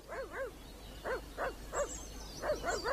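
A dog in an animated cartoon barks in a quick, uneven series of about eight sharp barks, fairly close and clear over a quiet background.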